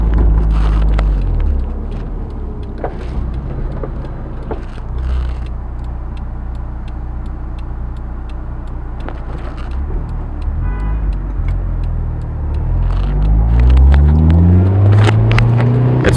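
Honda S2000 with a Milltek dual exhaust and top up, cruising at highway speed: steady interior engine and road drone with wind noise, then a rising rev sweep near the end.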